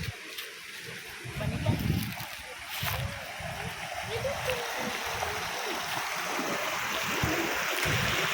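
A creek in the countryside flows and splashes nearby while people swim in it, giving a continuous watery rush with occasional splashes beneath murmuring voices.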